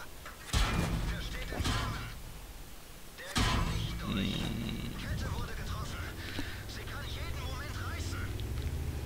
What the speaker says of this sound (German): Natürlich drei Schüsse gefangen vom T67.